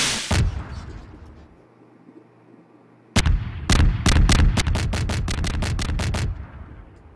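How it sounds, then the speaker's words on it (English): Dual fireworks in Garry's Mod: a loud blast near the start, a quiet lull, then a rapid string of about a dozen sharp, close bangs crackling in quick succession before stopping abruptly. "Dual firework, okay."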